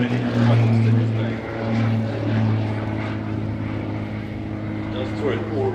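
An aerobatic propeller airplane flies a display at the Farnborough air show, its engine droning steadily with a rising and falling hum, heard under a commentator's continuous talk.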